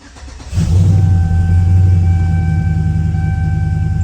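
A V8 car engine fitted with a Chopacabra camshaft, long-tube headers and a full exhaust cranks briefly and fires up, settling into a loud, deep, steady idle rumble close by.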